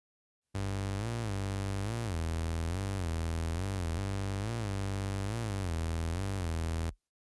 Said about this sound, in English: The saw, the synth, what that does is it underpins the introduction with the guitar riff.